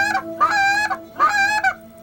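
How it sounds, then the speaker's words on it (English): A short reed goose call blown in two long, loud, high-pitched honks, each with a sharp scratchy break at the start and a quick clipped note at the end, close to the listener with nothing else behind it. "And that was his introduction to short reed goose calls for Tim."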